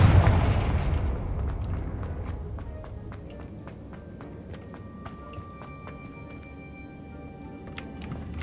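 A Confringo fire spell explodes in the video game Hogwarts Legacy, opening with a loud booming blast that decays into a rumbling tail, followed by scattered sharp crackles and clicks.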